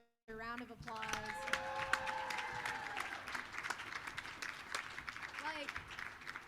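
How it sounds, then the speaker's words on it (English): Concert audience breaks into sustained applause, dense clapping and crowd noise throughout, loud and close, with a sung or held tonal line fading out at the start. "Can we just give Jackson another round of applause?"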